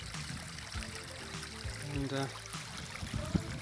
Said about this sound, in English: This lovely babbling brook.